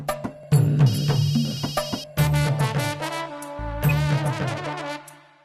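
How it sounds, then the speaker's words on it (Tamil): A telephone ringtone plays a bright electronic melody of repeated tonal phrases, loud and close, with short pauses between bursts. "பாட்டி, உனக்கு ஃபோன் வந்திருக்கு."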